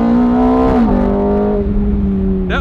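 A 2005 Ferrari F430 Spider convertible roars loudly up close as it accelerates. The engine note drops sharply at the 1-2 gear shift, then climbs and holds.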